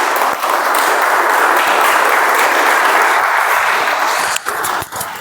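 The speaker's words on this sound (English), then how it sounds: "So let's give a round of applause to Toastmaster Prashant." Steady applause from a sizable crowd at a Toastmasters meeting, loud and sustained, thinning out briefly near the end.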